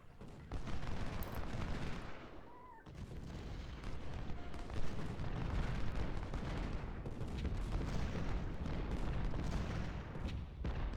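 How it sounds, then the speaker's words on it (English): Artillery fire in a Second Bull Run Civil War battle video game, a dense continuous barrage of booms and crackling gunfire rumbling without pause, loud and full, no talking. "The artillery open up."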